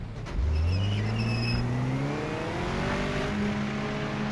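Race car engine in the PS5 racing game Project Motor Racing, revving up through the gears as it accelerates, loud and steady, with rising pitch sweeps and no voices over it.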